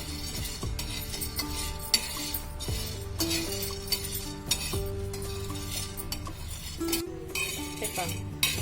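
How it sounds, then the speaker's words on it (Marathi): Val beans dry-roasting in a pan, stirred with a utensil that gives repeated metallic clinks and scrapes over a faint sizzle. "आपल्याला वाल चांगले भाजून घ्यायचे आहे"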